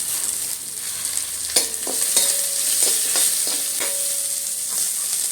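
Garlic frying in a pan for a Kerala piranda chammanthi, a steady bright sizzle broken by repeated metallic clinks and scrapes of a spoon stirring, close and with no voices.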